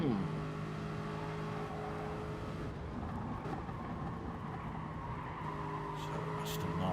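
Sim racing game cars, Toyotas among them, roar past with steady engine drones and rising and falling revs, one car accelerating close by, while a commentator talks throughout.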